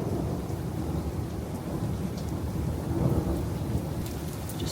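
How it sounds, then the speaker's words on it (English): Continuous rolling thunder in a severe storm with steady rain, a dense low rumble that swells slightly midway and never lets up, with no voices over it. "It's literally just been continuous thunder like this for the last like 10 minutes"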